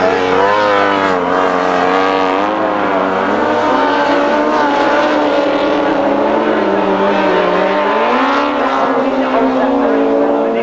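Grasstrack racing motorcycles from 1993 speed around the track and past the commentary position, a loud, continuous roar of engines rising and falling in pitch for several seconds, with a commentator talking over it.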